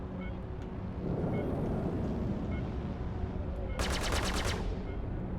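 Spaceship weapons fire in the space combat game Star Citizen, a short burst of rapid bright shots near the end over a steady low engine rumble and hum.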